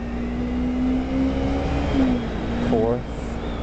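Motorcycle engine pulling steadily with a sustained drone, pitch climbing and dropping as it shifts up through the gears, riding at speed around 55 mph with a rising sweep near the end.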